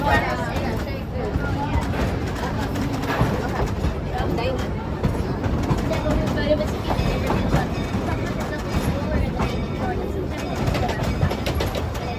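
Steady rumble and rattle of a moving train carriage in Los Angeles, with a constant wash of rail noise and muffled chatter from passengers throughout.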